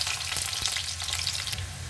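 Small chopped onion sizzles in hot oil with cinnamon, cardamom and star anise for an Ivy gourd gravy, a close, steady crackling fry without any voices.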